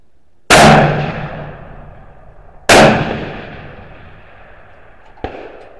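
A Howa 1500 rifle in 6.5 fires Reloder 26 loads with Sierra 142 grain HPBT bullets: two loud, sharp shots about two seconds apart, each trailing off in a long echo, followed by a fainter crack.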